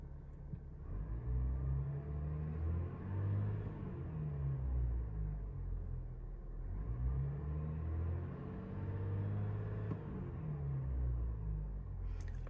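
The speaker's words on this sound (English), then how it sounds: "Now I'm gonna rev the engine." A 2021 GMC Sierra 1500 Duramax 3.0L diesel fitted with an S&B cold air intake revs up and falls back twice in smooth swells, a deep low rumble heard close and fairly quiet, no talking.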